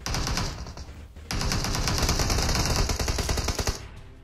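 Tommy gun firing in PUBG Mobile, loud rapid automatic bursts with a brief pause near one second, then a long sustained stream of shots that tapers off at the end.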